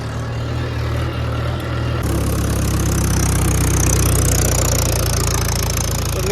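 Tractor engine running steadily while ploughing a manured field, a loud continuous low drone that grows fuller after the first two seconds and carries on with no talk.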